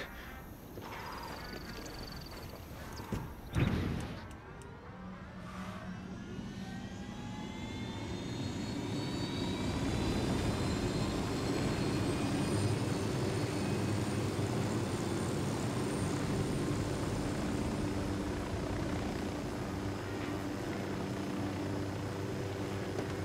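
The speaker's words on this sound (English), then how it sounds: "I grab a helicopter here." Helicopter in the video game Ghost Recon Wildlands, a low engine and rotor roar that swells up after a few thumps and then holds steady and loud, with no talk over it.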